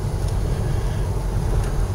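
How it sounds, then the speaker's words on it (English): Strong gusting wind of about 35 after rain stopped, a continuous low rumble buffeting the microphone with steady roaring noise and no voices. "And it's really windy"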